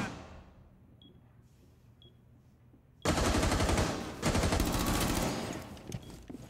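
Point-blank shotgun blasts in a streamer battle-royale match: a sudden loud burst of dense gunfire and impacts erupts after a quiet stretch with faint clicks, then continues in heavy overlapping bangs.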